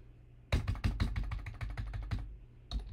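Rapid keystrokes on a computer keyboard as a file name is typed, a quick burst of close, crisp taps following a brief quiet start, with one final key press after a short pause.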